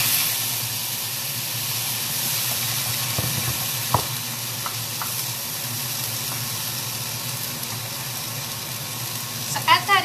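Three diced tomatoes sizzle in a hot pan with no added oil, a steady broad hiss and frying crackle running throughout, with a few sharper clinks and stirring bumps near the start and end.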